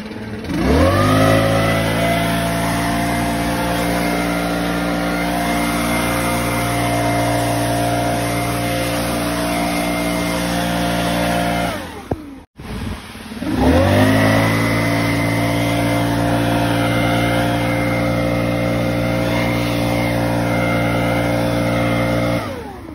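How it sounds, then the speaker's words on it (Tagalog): A snow blower engine runs steadily and loud while clearing snow in Canada, a constant droning hum that cuts out for an instant midway and then resumes. "Yung snow blower. Against the snow."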